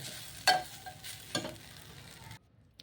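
Poha (flattened rice) is stirred in a pan while frying, with a few quiet scrapes and a soft sizzle underneath before the sound cuts off near the end.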